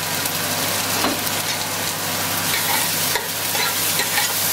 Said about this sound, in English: in the same pan, we're gonna saute an onion to begin with